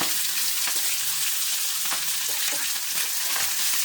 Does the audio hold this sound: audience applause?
no